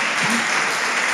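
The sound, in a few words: applause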